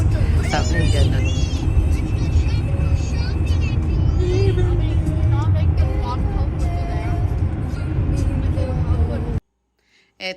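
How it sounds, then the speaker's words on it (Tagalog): Continuous road traffic roar from inside a vehicle on a highway during a Vancouver to Prince Edward Island family road trip, a steady loud rumble with people talking over it, cutting out near the end. "Ito na nga, ay umpisa na ng traffic sa daan."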